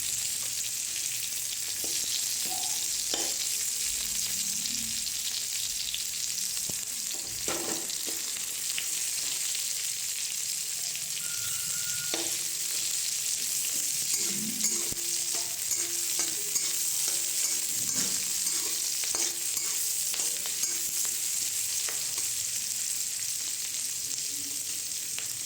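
Chopped onions sizzle and fry steadily in a hot pan for a village-style mustard fish curry, with occasional stirring scrapes and clinks over a constant close hiss, no talking.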